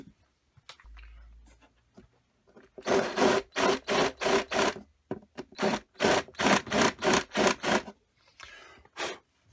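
A screw hole is countersunk by hand on a model railway point motor installation: two runs of quick, rhythmic scraping strokes, each a rasping burst, close and fairly quiet, separated by brief pauses.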